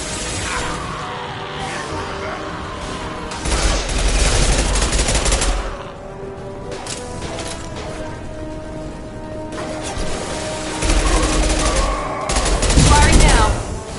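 A concussive shot and rapid gunfire ring out during combat in Mass Effect 2: two loud, heavy bursts of shooting, the second with a sharp booming peak, separated by quieter stretches of scattered shots and clatter.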